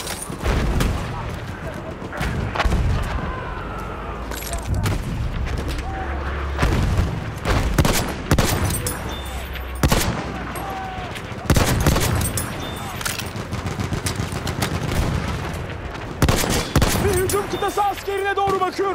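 Bursts of machine gun fire and booming blasts in the World War I shooter Battlefield 1, rapid rattling volleys repeating through a noisy battle mix, with a voice talking over them.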